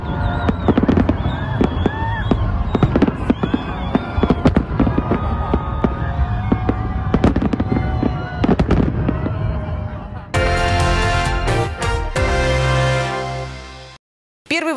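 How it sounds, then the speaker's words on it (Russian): Victory Day fireworks in Tolyatti burst and crackle repeatedly, loud and close, with whistles and pops, ending in a rapid sustained volley before cutting off. "А завершился День Победы в Тольятти красочным салютом."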